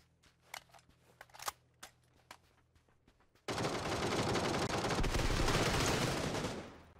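Gunfire in PUBG on console: a few sharp scattered shots at first, then about three seconds of loud, continuous rapid automatic fire that fades out at the end.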